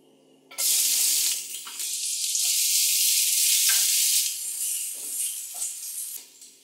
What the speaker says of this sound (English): when these spices start to sizzle